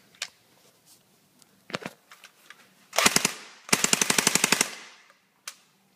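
Airsoft gun powered by a 7.4 volt battery, firing a few single shots and then two rapid bursts of fast rattling full-auto fire, close and loud, with quiet handling clicks between.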